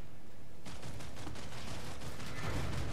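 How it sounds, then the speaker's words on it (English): Enemy gunfire in the sci-fi shooter Planetside 2, a dense continuous crackle of rapid shots, fairly distant and steady, with no talking. "But people are shooting at us now."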